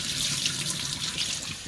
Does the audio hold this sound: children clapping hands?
no